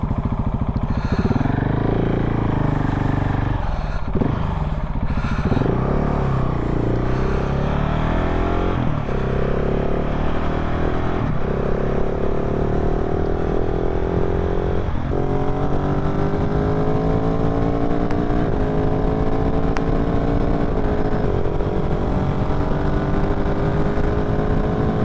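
A KTM 1290 Super Duke R engine revs loudly and repeatedly up close, each rev hanging and dropping back slowly, lingering high before settling, a steady rumbling idle underneath.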